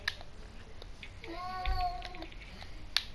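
A single clear cat meow rising and falling in the middle, fairly close, over faint background hiss and a few small clicks.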